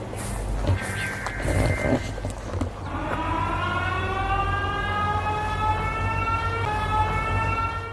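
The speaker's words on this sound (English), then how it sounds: "I hear like a police siren or something." A loud siren wails through a forest, rising in about three seconds in and then holding a steady, layered howl that slowly drifts upward in pitch over a constant rumbling background.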